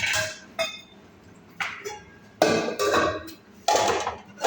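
A metal pot holding potatoes and masala for a thoran is covered with its lid, giving several separate clanks and clinks spaced across a few seconds, close and moderately loud.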